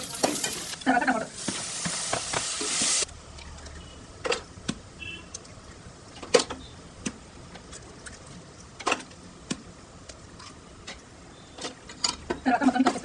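A spatula stirs and scrapes through sizzling egg rice with tomato, chilli, mint, coriander and masala spices in a pan, with loud frying hiss at the start and end and sharp clatters of the utensil in between.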